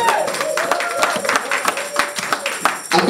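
A church congregation claps loudly and irregularly in praise of Jesus, a burst of close, sharp handclaps with scattered voices cheering underneath throughout.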